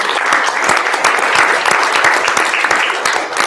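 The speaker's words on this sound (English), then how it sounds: "You want to do a round of applause." An indoor class audience gives a round of applause, dense steady clapping from many hands, loud and close throughout.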